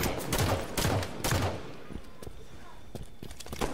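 Gunfire in a Halo multiplayer match with classic weapons, heard as a burst of close, loud repeated shots that then thins into scattered reports and game noise.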